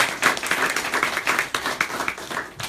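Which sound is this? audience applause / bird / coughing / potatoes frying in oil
audience applause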